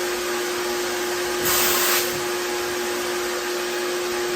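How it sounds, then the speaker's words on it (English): A vacuum cleaner hums steadily with a constant droning whine throughout, with a brief louder rush of airflow partway through. "Vacuum on"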